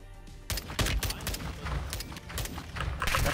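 Rifle fire in a video game comes in dense, rapid bursts that are loud and close, with a constant hail of shots and no pauses, and no voice is heard.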